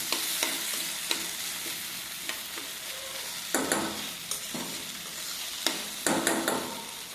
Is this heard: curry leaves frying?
yes